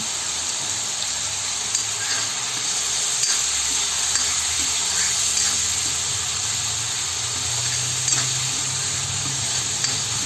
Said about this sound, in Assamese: এতিয়া মই এইখিনি ভাজি ল'ম।